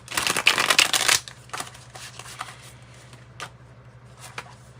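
Gold foil tarot cards shuffled, a loud, close burst of riffling for about a second, followed by quieter, scattered card handling over a low hum.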